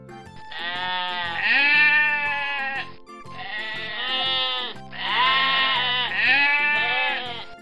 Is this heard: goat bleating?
yes